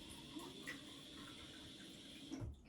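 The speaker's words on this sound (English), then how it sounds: "I'm switching up my water again" Water for watercolor painting is changed at a sink, with a quiet, steady stream of running water that ends in a brief splash.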